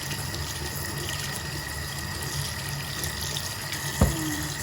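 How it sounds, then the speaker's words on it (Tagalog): Tap water runs steadily into a sink while lemons are washed, a constant close hiss with a single brief knock near the end. "Maghuhugas lang ako. Hugasan ko lang po siya."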